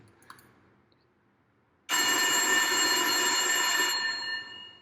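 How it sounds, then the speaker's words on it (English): A telephone bell sound effect bursts in suddenly after a near-silent start, ringing loud and continuous as a sustained metallic trill before beginning to fade at the end. "I just had this idea of a telephone ring"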